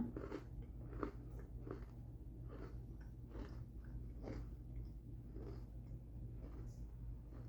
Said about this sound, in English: We eat it dry, then we try it with milk